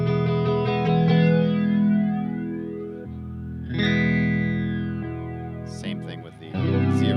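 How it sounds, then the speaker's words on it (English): Subtractive flange from an Electro Harmonix Mod11 modulator pedal sweeps through sustained, distorted notes as a hollow, whooshing shimmer, swelling over two long held chords before a few short choppy notes ring out loudly. "And this is a subtractive flange."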